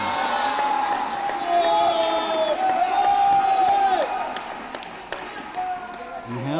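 An Indian cheering squad at a pickleball match at the Asia Open, a crowd chanting and shouting together at moderate distance, sustained throughout, with commentators talking over it.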